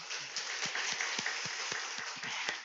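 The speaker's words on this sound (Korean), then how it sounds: "오늘 오신 모든 분들 박수로 우리 환영하겠습니다" Applause from a church congregation welcoming attendees at an early-morning prayer service, a dense sustained clapping filling the room with scattered louder claps.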